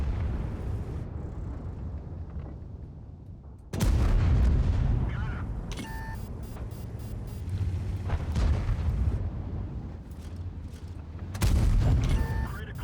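Tank cannon shots in World of Tanks: heavy booming blasts, one sharp near report a few seconds in and another near the end, with rumbling battle noise, clanks and game alert tones between.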